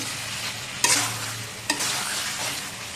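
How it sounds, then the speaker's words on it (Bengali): Chicken pieces cooked down with mango and kasundi sizzle steadily in a pan, with two sharp spatula scrapes cutting through the continuous frying hiss; no voices. "এভাবে কষিয়ে কষিয়ে আমি রান্নাটা করে নেব"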